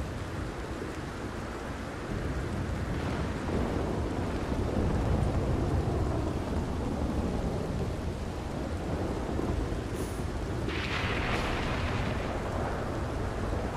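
Thunder rolls through a lightning storm in the video game Red Dead Redemption 2, a continuous heavy rumble over steady rain, with a sharper crack and rumble building near the end.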